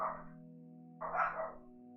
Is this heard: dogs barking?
yes